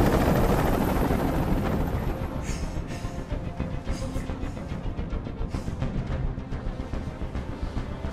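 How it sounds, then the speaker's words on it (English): A loud, steady helicopter rotor drone with a rhythmic thumping pulse from the video game Detroit: Become Human, close and continuous, with no voices. "I can't stand that noise anymore. Tell that helicopter to get out of here."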